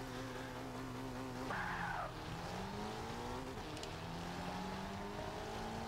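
A Subaru WRX races around a test track in Forza 5, its engine note climbing and dropping through gear changes while a short burst of tire squeal cuts in, all continuous and without talk.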